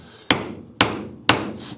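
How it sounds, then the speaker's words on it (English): Three sharp hammer strikes on a DIY cantilevered shelf bracket for light material, evenly spaced about half a second apart, each a close, loud crack with a short ringing decay. "so this hammer works"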